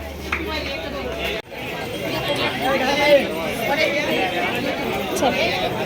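Dense crowd chatter at a busy Hindu temple in Alandi on a Sunday, a steady murmur of many voices close around, with a brief dropout partway through.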